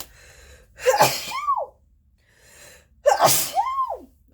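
Two loud, close sneezes a couple of seconds apart, each with a sharp intake of breath before the burst.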